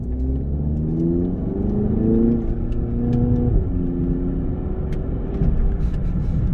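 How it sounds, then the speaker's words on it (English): A 2021 Audi TT Mk3 Roadster engine revving and accelerating, mixed with engine noise played through its speakers, a loud continuous droning growl with rising and shifting pitch through gear changes, heard from inside the car. "it's a combination of the engine and noises being played through the speakers"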